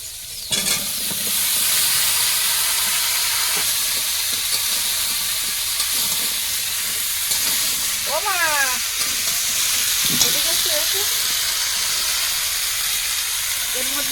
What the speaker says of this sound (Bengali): পেঁয়াজ কুচি দেবো কাঁচা লঙ্কাটা দিয়েছি দিয়ে একটু ভেজে নিয়ে এবার কুমড়ো আর আলু দেবো